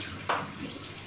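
Water runs steadily from a tap while waiting for it to warm up for a cat's bath, a soft continuous hiss with one brief louder splash near the start.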